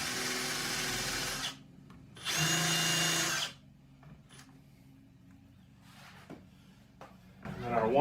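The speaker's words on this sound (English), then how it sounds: "I'm actually following it up with a little bigger countersink just to get a little more in there so I don't split it." A power drill countersinking a hole in scrap wood whines loudly in two bursts, the second shorter, followed by quieter handling noises and a voice near the end.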